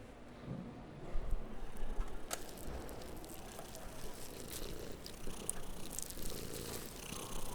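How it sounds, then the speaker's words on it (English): Cat purring in a creepy horror audio drama, a low continuous rumbling purr, close and moderately quiet, with a few faint clicks and shuffles. "Where in Bob's name is that stupid cat?"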